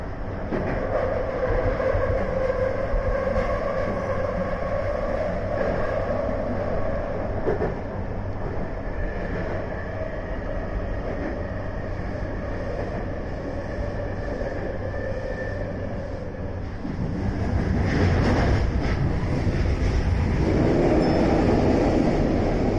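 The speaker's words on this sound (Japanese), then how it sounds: "100周年ラッピングの東急大井町線の車両がやってきました。" A Tokyu Oimachi Line commuter train rumbles past at close range with a steady rolling roar, swelling louder near the end as the cars go by.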